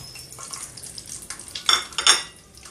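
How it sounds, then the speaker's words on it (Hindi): Dry fruits such as pistachios and raisins are stirred in a pan, with a metal utensil clinking and scraping against the cookware in irregular bursts and a few sharper clatters near the end. "अब इसमें ड्राई फ्रूट को फ्राई करेंगे।"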